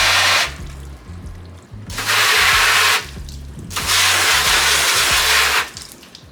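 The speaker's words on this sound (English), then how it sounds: "You can already see how water slides off smoothly, better than before." Water sprays onto a freshly washed car in three loud hissing bursts about a second and a half each, separated by short pauses, over a faint low hum.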